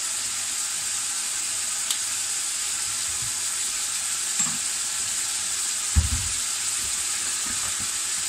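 Meat sizzles steadily in a paella pan as its released juices boil off, a constant close hiss broken by a few soft knocks and clinks from stirring.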